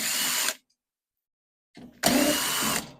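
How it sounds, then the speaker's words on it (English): A power tool backs screws out of a microwave being scrapped for copper. Two close, loud whirring drill bursts are separated by a short silence, and the second burst starts with a brief lower rev. "So I'll undo all the screws I can."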